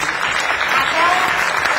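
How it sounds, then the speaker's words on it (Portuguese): A museum conference audience applauds with dense, steady clapping that fills the room at even loudness throughout, with no voices rising above it. "eu peço uma salva de palmas para todos vocês agora que estão aqui"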